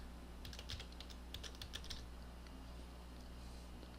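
A short burst of keystrokes on a computer keyboard while entering a search in Windows Server, quick light clicks over a steady low background hum, with no voices.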